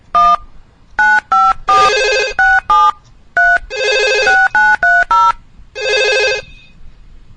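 Telephone ringing loudly during a radio call-in show, sounding as repeated electronic ring bursts in an uneven, stuttering pattern with short gaps between them, close and clear with no talk over it.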